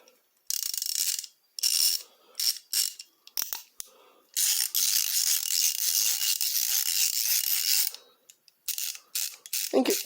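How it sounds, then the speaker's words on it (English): A DeWALT long-handled flex-head ratchet clicks loudly and close up in repeated bursts of rapid pawl ratcheting, with short pauses between strokes and one longer sustained run, and no talking. "This is a DeWALT long-handled flex head ratchet."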